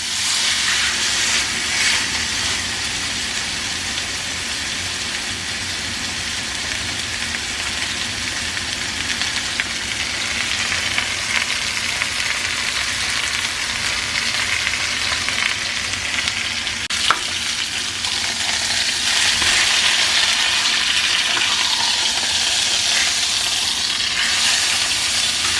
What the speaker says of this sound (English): Here I am searing